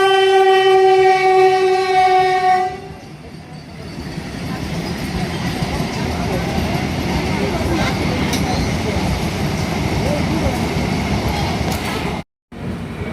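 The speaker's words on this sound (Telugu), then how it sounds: "ఇప్పుడు మన ట్రైన్ పోన్పడి రైల్వే స్టేషన్కి అయితే వచ్చి" The Puducherry-Tirupati MEMU express sounds a long, loud horn blast before settling into a steady, rumbling run with rhythmic wheel-and-rail clatter, heard from on board.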